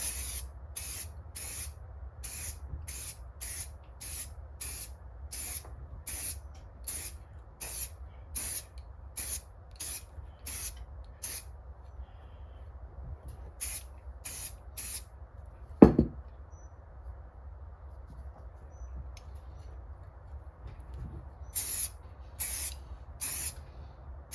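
Aerosol spray can laying light coats of clear lacquer onto a plastic hubcap, in repeated short bursts of hiss in a steady rhythm, a pause mid-way broken by one sharp knock, then more bursts, close and clear.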